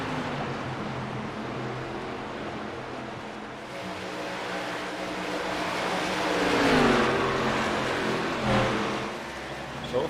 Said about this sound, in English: Only 14 cars on the track.